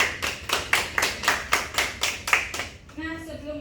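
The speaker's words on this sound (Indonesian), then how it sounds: "Tepuk tangan dulu buat Rifda." Classroom clapping in an Indonesian school lesson: a group claps in a steady unison rhythm, about ten firm claps, then stops as a voice begins speaking.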